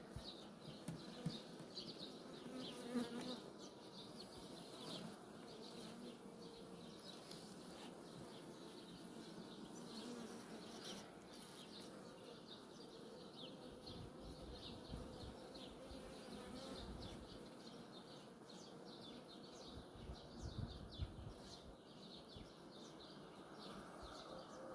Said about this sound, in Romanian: Albinuțele au înconjurat-o